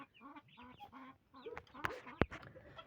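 A mother duck with her ducklings quacks and chatters in short bursts, with softer peeping calls from the ducklings mixed in, close by, ending with a couple of sharp knocks.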